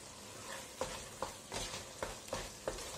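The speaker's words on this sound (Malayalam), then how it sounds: "നമുക്ക് നന്നായിട്ട് മിക്സ് ചെയ്യാം" Carrot halwa with cardamom being stirred in a pan, a series of about six distinct scraping strokes of a spoon against the metal over a soft sizzle, close and clear with no talking.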